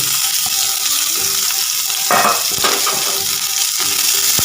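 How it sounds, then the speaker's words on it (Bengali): Chopped onions and bay leaves fry in hot oil for a potato chop recipe, giving a steady close hiss of sizzling with a few louder crackling bursts and stirring, and no voices. "এতে আমি দিয়ে দিচ্ছি দুটো তেজপাতা এবার আমি এখানে মাঝের সাইজে দুটো পেঁয়াজ কেটে রেখেছি সেটা আমি দিয়ে দিচ্ছি"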